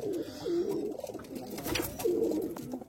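Rajshahi Girbaj pigeons, an old prized breed, coo in repeated throaty rolling phrases close by, with soft rustling and faint clicks in the background and no talking.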